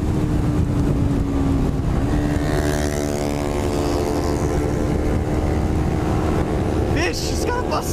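Sport motorcycles, a Ninja 250R, CBR 250 and MT-03, run at top speed. Engine roar and wind noise fill the whole stretch and climb in pitch as machines close in and pass.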